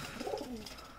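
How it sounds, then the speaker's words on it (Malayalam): A pigeon in a loft gives a short, soft, low coo, close and faint, with no voices. "അപ്പോൾ ഇത് ഈ പ്രാവിനെയാണ് നമ്മൾ കൊടുക്കാൻ ഉദ്ദേശിച്ചിട്ടുണ്ടായിരുന്നത്."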